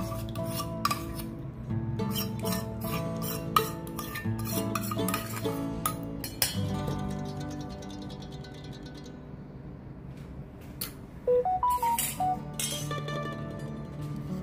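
Whisked curd is poured into a bowl and stirred, producing a run of close scraping and clinking of a utensil against the bowl, with brief sharper knocks and no talking.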